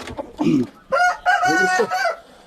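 A rooster at a poultry gathering in Uzbekistan crows loudly and close by in several drawn-out, broken phrases, with no speech over the call.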